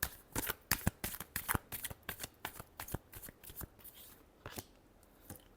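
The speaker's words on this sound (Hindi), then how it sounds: "last shuffle" Tarot cards are shuffled by hand in a quick series of crisp, close riffling snaps and slaps, irregular bursts that thin out toward the end, with no talking over them.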